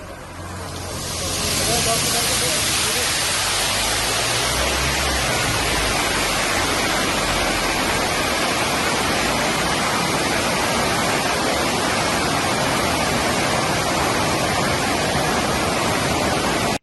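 Water roars out of an opened shutter on the Ponmudi dam in Kerala after heavy rain raised the reservoir to red alert, a loud, steady, close rushing wash that swells in during the first two seconds and then holds without a break.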